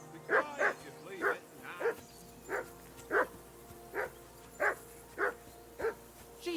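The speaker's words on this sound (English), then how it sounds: "Henry, that barking's driving me nuts. Can you get your dog to shut its beak?" Dog barking in the medieval role-playing game Kingdom Come: Deliverance II, about ten sharp barks at a steady, regular rhythm, fairly close, over a low ambient background.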